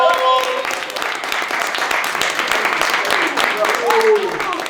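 Audience applause for a poet at a youth poetry slam: dense clapping from a crowd running the whole time, with voices and a few tonal sounds over it.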